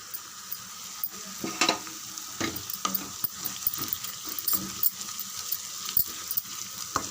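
Ground masala paste of roasted gram, cashews and cardamom sautéing in oil in a pan for chicken gravy, a soft continuous sizzle broken by frequent spoon scrapes and light clicks, close and fairly quiet.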